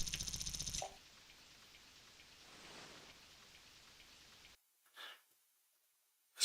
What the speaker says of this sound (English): It's got like the rain sounds.